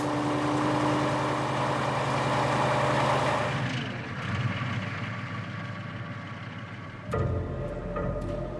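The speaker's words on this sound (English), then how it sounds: "A 300 horsepower engine and 6-wheel drive are no help." A 300-horsepower six-wheel-drive truck stuck in desert sand, its engine running steady and loud at first, then dropping to a lower, rougher idle with a brief surge near the end.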